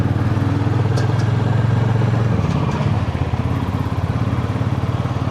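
A motorcycle engine runs on a cold start, first in a loud, steady drone, then dropping into an uneven, pulsing chug that jerks and sputters. It stays close and alone throughout.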